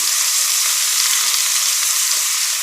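Paprika fries and sizzles in butter fat for chicken paprikash, a loud, steady, close hiss and crackle that runs unbroken with no talking.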